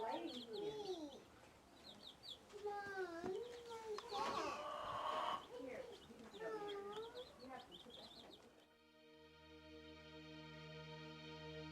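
Chickens and young chicks clucking and chirping on a farm with goats nearby, repeated bird calls in a busy stretch under a narrating voice, then a sustained tonal hum takes over near the end.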